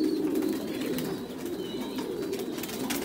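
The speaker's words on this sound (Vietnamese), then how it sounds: "hai con bồ câu đây này" Young pigeons sit in a farm nest while soft, low cooing hums on steadily beneath faint rustling and scattered small chirps, close and continuous.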